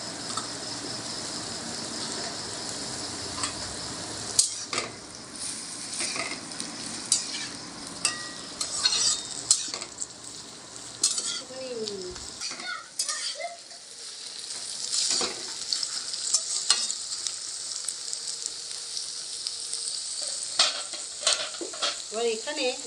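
Capsicum sizzles steadily in oil in a kadai while a utensil scrapes and stirs it, giving a continuous close crackle with scattered clinks. The heavy hiss eases briefly partway through and then returns.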